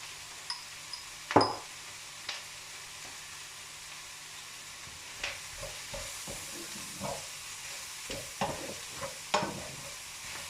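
Mushrooms seasoned with salt and black pepper fry in a pan over medium-high heat, giving a low, steady sizzle broken by scattered clicks and scrapes of stirring.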